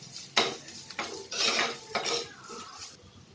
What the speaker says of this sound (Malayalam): ഇനി ഇതിൻ്റെ പച്ചമണം മാറുന്നിടം വരെ നമുക്കൊന്ന് വഴറ്റി കൊടുക്കാം